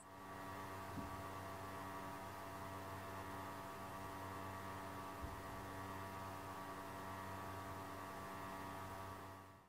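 A SUNLU AMS heater filament dryer for a Bambu Lab AMS runs with a steady, faint electrical hum and hiss, constant throughout with no talking.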